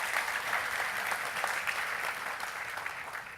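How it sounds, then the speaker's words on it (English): A loud round of applause from the audience at a valedictory session: sustained, dense clapping from a full crowd, steady and even throughout. "Please, ladies and gentlemen, one more loud round of applause."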